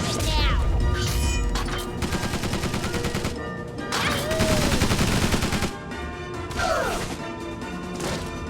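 Units exchange gunfire in the strategy video game Tiny Metal: rapid machine-gun bursts, crashing impacts and thuds in loud repeated volleys with game effects, no voices.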